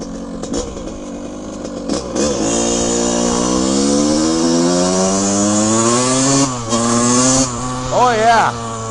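A 1982 Honda CR125R two-stroke dirt bike engine runs close and loud, its buzzy raspy tone rising and falling as the throttle is blipped and revved, with a voice talking over it.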